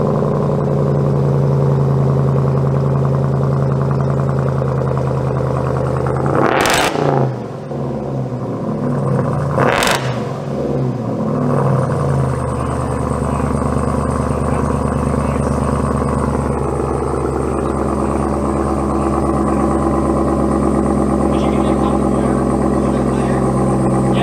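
Jeep Wrangler with a supercharger and AWE exhaust starting up for the first time, two sharp loud revs rising and falling before settling into a deep, rumbling idle.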